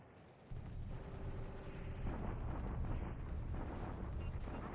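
Distant artillery fire in the War in the Pacific Admiral's Edition strategy game, a low continuous rumble of blasts that swells after a quieter start and holds steady, with no talking.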